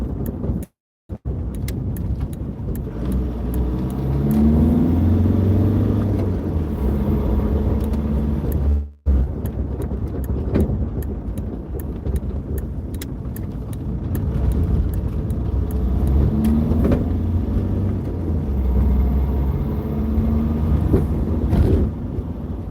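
A Mitsubishi Outlander rolls over a rough, broken road, its steady engine and tyre rumble filling the cabin with bumps and jolts, loud and continuous with a brief cut near the start and another mid-way.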